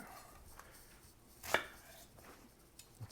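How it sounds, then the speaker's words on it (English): Single knife chop through an onion onto a board, one sharp close knock over a quiet background. "Let's go ahead and quarter half an onion, get that in the pot."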